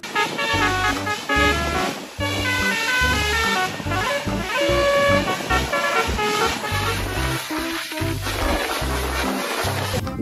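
Bus telolet horns blare in repeated melodic honks, loud and close, mixed with music-like tones and rhythmic low thumps throughout.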